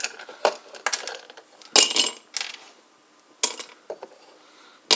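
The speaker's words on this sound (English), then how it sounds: "you put the ice cubes into this mug" Several sharp clattering knocks of ice cubes dropping into a mug, arriving in irregular bursts with quiet gaps between, close and fairly loud.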